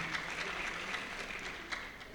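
Audience applause at a graduation ceremony speech, a steady wash of many hands clapping at moderate distance, fairly faint and even throughout with a few sharper claps standing out.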